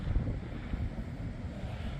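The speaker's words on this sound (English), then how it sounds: "Wind is uncomfortably westerly." Strong westerly wind blowing across a beach, a steady low roar buffeting the microphone with no breaks and no voices.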